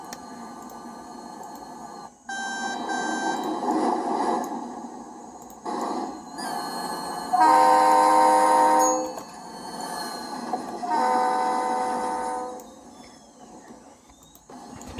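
Locomotive running long hood forward in the Rails Unlimited train game, with rumbling engine drone and several loud, sustained horn blasts rising and falling over about fifteen seconds.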